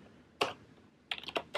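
Keys clacking on a PRX Periboard ergonomic keyboard, heard in short bursts of typing close to the microphone after a quiet pause, with small clusters of sharp key strikes separated by brief gaps.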